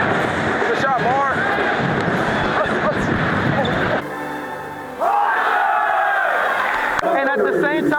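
A crowd at a high school basketball game between Denfeld and East cheers and yells loudly and steadily, with shouting voices and whoops rising over the din and a brief dip midway.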